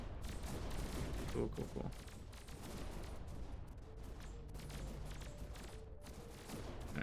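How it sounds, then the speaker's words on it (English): Plasma heat bolts fire in rapid, continuous volleys during a large-scale battle in the tug-of-war RTS game Annihilate The Spance, a dense crackling barrage with someone briefly talking over it. "these fire like plasma heat bolts"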